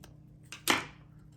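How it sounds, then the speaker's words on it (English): Scissors trim paper for a planner spread with two quick, crisp snips close by, the second louder, against a quiet room. "I'm gonna trim a little bit more green here."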